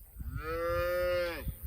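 A single long, loud moo from cattle out in a pasture where heifers calve alongside the cows, a drawn-out bellow rising and holding steady before trailing off, with faint ambient noise around it.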